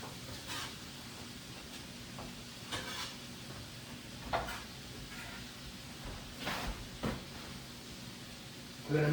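Sausage, peppers, onions and tomato are stirred in a pan, with a soft continuous sizzle beneath several scattered scraping strokes and light clanks of the utensil, fairly quiet throughout.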